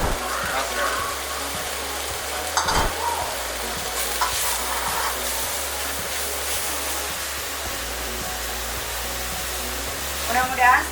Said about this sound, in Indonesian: Nah, ini kita masukin jamur.